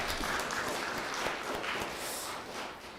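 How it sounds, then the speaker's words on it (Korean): A congregation at a Catholic Mass claps together in a church, a steady, moderately quiet patter of hands that continues evenly, with no talk over it. "고생한 모두 위해서 박수 한번 칠까요?"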